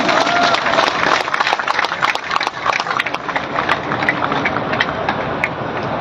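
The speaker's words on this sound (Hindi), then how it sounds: "उनके लिए जोरदार तालियां होनी चाहिए।" A large crowd at an outdoor protest rally in Karnal claps loudly and steadily for about six seconds, the dense applause filling the whole stretch with a few sharper individual claps standing out.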